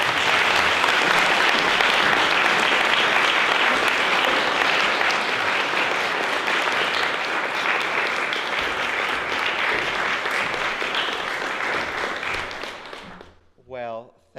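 An audience at a Beloit College keynote lecture applauds, a dense, sustained wash of clapping that holds steady for about thirteen seconds, then fades out as a voice begins.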